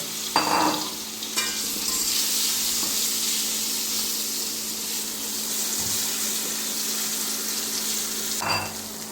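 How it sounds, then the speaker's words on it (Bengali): Potato pieces fry in a pan with a steady, close sizzle while a utensil stirs them, scraping and knocking the pan a couple of times. "এই আলুগুলি দিয়ে দিলাম, দিয়ে এগুলি আবার সুন্দর করে ভেজে নেব।"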